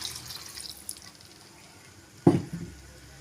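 A brief splash of water poured into a pan of cooking potato gravy, one short burst standing out from a quiet kitchen background.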